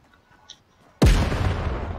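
A grenade blast in a video game goes off with one sudden, loud, close boom after a quiet moment, followed by a noisy, rumbling decay.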